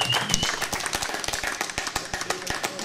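Trivia show contestants clap together after a correct answer, a dense patter of overlapping hand claps at close range with a few sharper individual claps standing out.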